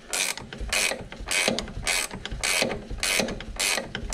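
A regular wrench tightens a sway bar link on a C6 Corvette, giving a close, loud ratcheting clatter in even bursts roughly every half second.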